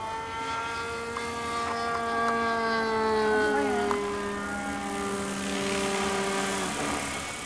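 An HDX500 RC helicopter rotor whines steadily overhead, its tone sagging and falling as the low voltage cutoff kicks in, with faint voices nearby.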